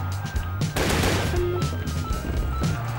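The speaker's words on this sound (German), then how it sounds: "Der schießt auf mich." An enemy fires on the player in the game W.E.T., a loud close burst of shots over a busy game soundtrack with a sustained low tone.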